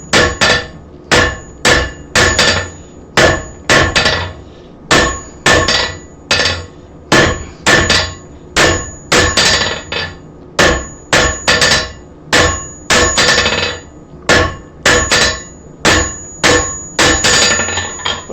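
Steady, evenly spaced hammer blows ring out on metal during blacksmith forging, about two strikes per second, loud and close with bright metallic ringing. No voices, just the continuous rhythmic pounding.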